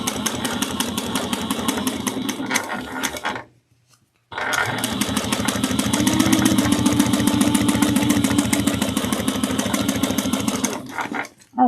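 A sewing machine topstitching a crossbody bag at a 1/8-inch seam: loud, rapid, even mechanical chatter that runs continuously, stops briefly and starts again, then cuts off at the end.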